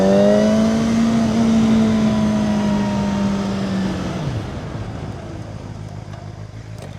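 A 2025 KOVE 450RR motorcycle engine holds a steady throttle at speed, a loud sustained engine tone that slowly sinks in pitch, then breaks into a rougher, lower rumble under continuous wind noise.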